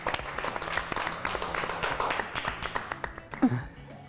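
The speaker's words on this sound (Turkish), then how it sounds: "Biz de alkışlıyoruz" A studio audience on a Turkish fashion show claps in a steady burst of applause, moderately loud with distinct individual claps, and a voice cuts in near the end.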